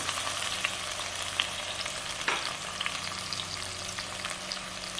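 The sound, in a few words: tomatoes, onion and chipotle peppers frying in vegetable oil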